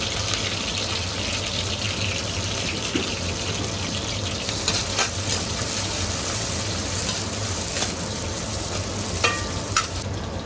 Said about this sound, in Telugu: పచ్చివాసన పోయే వరకు కలుపుకుందాం బాగా.